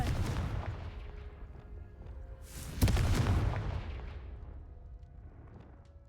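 A Confringo blast spell goes off in Hogwarts Legacy: one sharp, loud burst that rolls into a long rumbling decay, sitting over a steady low game background with no talking.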